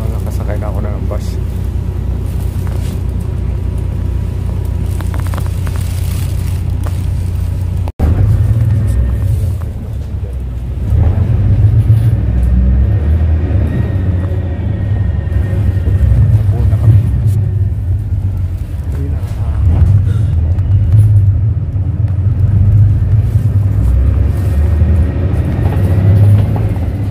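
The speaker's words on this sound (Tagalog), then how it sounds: "Nakasakay na ako ng bus." Inside a bus in Korea, a low engine rumble and road noise roll on steadily and loud throughout, with a sharp jolt partway through; a person speaks over it.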